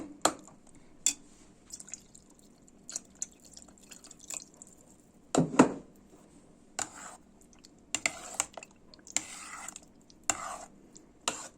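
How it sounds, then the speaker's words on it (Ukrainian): Milk poured into a pot of pumpkin porridge, with soft liquid splashes and drips among scattered kitchen clicks and scrapes, close by and fairly quiet. "Додаємо молочка трішки."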